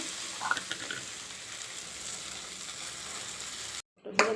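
Ground masala paste frying in oil for a potato and peas curry gives a steady, fairly quiet sizzle with a few early stirring scrapes, then a brief silence and a louder burst of frying near the end.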